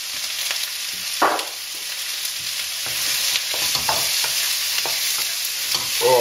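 Tofu stirred in a frying pan with chipotle hot sauce: a steady sizzle runs throughout while a utensil scrapes and clatters against the pan in irregular strokes, close and fairly loud, with no talking.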